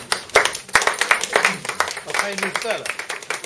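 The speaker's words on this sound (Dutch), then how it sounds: "applaus voor Piet" Audience clapping for Piet Gispen, introduced to speak at a Dutch business drinks gathering, a brief patter of hands that fades as a voice asks him a question over it.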